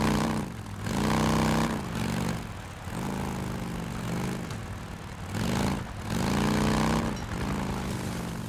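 Motorcycle engine in the video game Days Gone, a loud steady drone that rises and falls in pitch as the throttle swells and eases, with brief dips between longer revving stretches and no talk over it.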